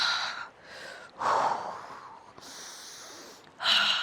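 Slow, deliberate breaths during a mat Pilates exercise with a ball, several audible inhales and exhales close to the mic, separated by short quiet gaps.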